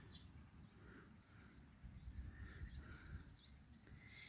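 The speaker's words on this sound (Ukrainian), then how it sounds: "Птички цвірінькають." Small birds chirp outdoors on a spring walk, giving scattered short, bright calls at some distance over a soft, constant background rustle and hum.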